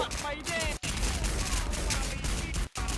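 Rapid gunfire bursts crackle through a shooting video game match, dense and loud nearly the whole time with two short breaks, while players talk excitedly over the shots.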